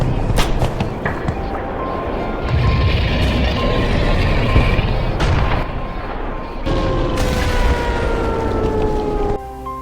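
Mortar explosions in the Black Mesa game (a Half-Life remake) land as heavy booms with rumbling low-end blasts and debris, mixed with gunfire-like cracks and whistling tones, loud and continuous across the scene.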